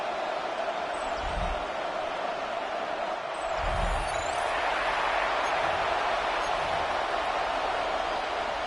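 Steady roar of a stadium crowd in an EA Sports Madden football game at a Raiders home game, a broad continuous wash of noise with a few low thumps, no speech over it.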